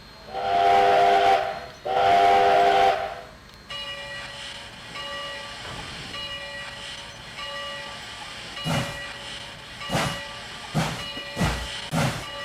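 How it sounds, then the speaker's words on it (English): A DLS G5 4-6-2 steam locomotive in the Trainz train simulator game gives two loud, long whistle blasts, then settles into a steady hissing hum with sharp rhythmic chuffs near the end. "also the steam locomotive sound, as you can hear"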